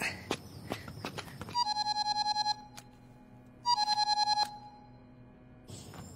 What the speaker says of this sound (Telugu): బ్రదర్ ఫోన్ అందుకో.